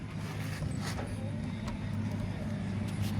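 Suzuki GD 110 motorcycle engine running on its stand without a battery, a steady low idling putter with faint background clatter and no voices.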